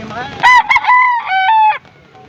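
A rooster crows loudly and close by among wet chickens at a rainy outdoor fowl market in Pampanga during a typhoon, with a few clucks before one long, clear crow that trails off.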